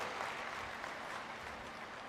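A crowd at a Ladli Behna women's rally in Madhya Pradesh, honouring the Chief Minister, claps steadily in a broad, somewhat distant wash of applause that stays even throughout.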